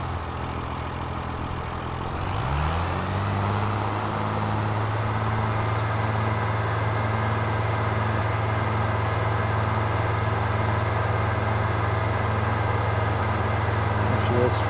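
A tractor engine in the video game Farming Simulator 25 starts up and settles into a steady, loud, droning idle that holds without change.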